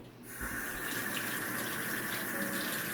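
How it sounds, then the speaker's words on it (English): Tap water runs in a steady close gush into a sink while hands, a knife and a cutting board are rinsed, starting after a brief quiet moment and continuing without talk. "now you need to wash your hands, the knife, and the cutting board."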